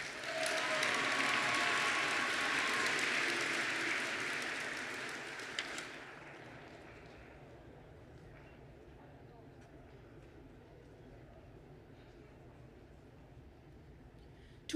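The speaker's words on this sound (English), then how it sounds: "Let's have a round of applause for Nicholas." Delegates applaud at a state student leadership conference session. A broad burst of clapping fills the hall for about six seconds, then fades into quiet room tone.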